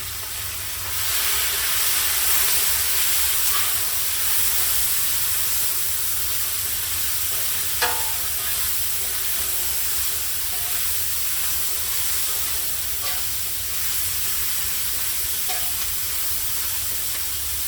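Onions hitting hot olive oil in a pan with browned lamb, giving a steady, close sizzle and hiss that runs alone throughout at an even level, with a couple of faint clicks.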